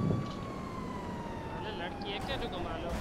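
A fire engine siren from the GTA video game wails steadily at moderate distance with a slowly falling tone, over continuous game background noise, with faint chatter toward the end.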